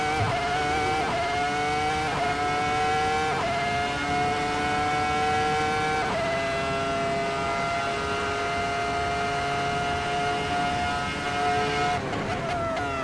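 A Ferrari F2004 Formula One car engine in a racing simulator game screams at high revs, climbing through gears with sharp upshifts every second or so, then holding a long sustained wail before a final burst of shifts.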